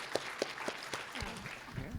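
Applause at the PyData LA conference for the keynote speaker and interviewer, scattered claps that build into a fuller burst from the audience, with some voices murmuring underneath.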